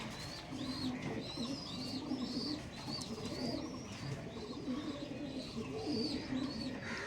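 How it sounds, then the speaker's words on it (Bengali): Male and female pigeons, Kalshira and Fulsira breeds kept for sale, coo in low repeated rolling phrases close by, with higher bird chirps scattered above and no talking. "দেখো এটা হচ্ছে মাদা পায়রা, আর এটা দেখাচ্ছি নর পায়রা।"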